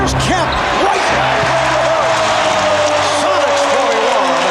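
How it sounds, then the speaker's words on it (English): A packed basketball arena roars during Game 5 of the 1996 NBA Finals, Chicago Bulls at the Seattle SuperSonics: a loud, steady wall of cheering throughout, with a commentator talking over it. "How about the crowd reaction to that?"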